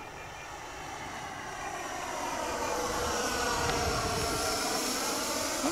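Small airplane engine holding a steady cruise at about 60% throttle, a loud continuous drone with broad cabin noise that swells slightly and then stays level throughout, with no talking.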